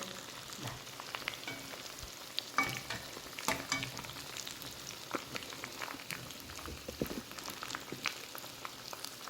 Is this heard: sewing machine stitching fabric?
no